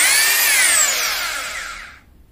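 A Makita HR2470 rotary hammer drill whines at high speed close by, its pitch falling as it spins down and then stops.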